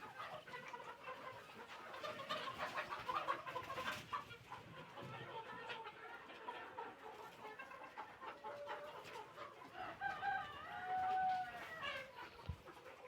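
Sonali chickens and roosters on a farm, clucking steadily through background noise, with a crow rising near the end.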